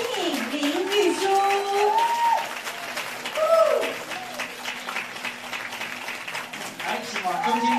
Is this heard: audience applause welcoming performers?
yes